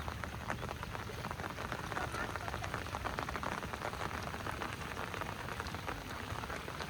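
Rain patters on surfaces near a village fishing spot, a busy crackle of close droplets over a steady hiss, even and continuous throughout.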